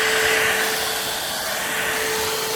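A Rowenta All in One 460 stick vacuum cleaner runs with a steady, even whir and a thin whine, heard close and alone, with no change in pitch.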